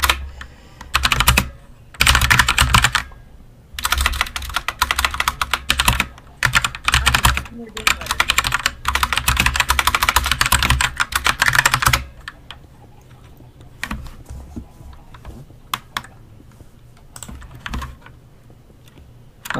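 Fast, hard typing on a very loud computer keyboard, dense clattering bursts for about twelve seconds, then sparser scattered keystrokes; close and prominent.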